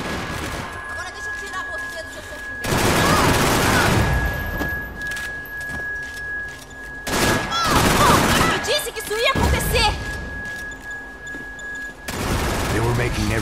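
Video game gunfire with rapid bursts of shots in several loud clusters, spaced by brief gaps, with voices heard across the clip.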